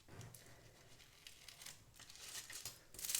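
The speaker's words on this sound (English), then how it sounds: "I'm just going to use the dullest scissors on the planet" Dull scissors snip through craft foil in a quiet room, giving a string of soft crinkling, tearing cuts at an uneven pace, with a louder rustle right at the end.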